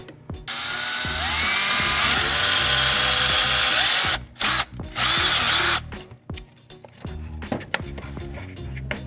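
A power drill on a 2007 Lexus IS 350 drives fasteners to secure a relocated relay box near the master cylinder brace, with long loud whirring runs broken by short bursts and ratcheting clicks, close up, no talking.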